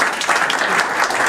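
Applause from an audience at an alumni association seminar, a dense steady burst of clapping close and loud with no voices over it.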